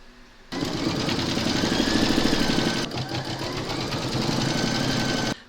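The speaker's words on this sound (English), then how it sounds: "Pop your hoop into your machine and stitch round number 3 to secure them." An embroidery machine stitches an owl applique in a hoop, a steady close mechanical whirr with rapid needle rhythm running for about five seconds, briefly dipping midway before resuming.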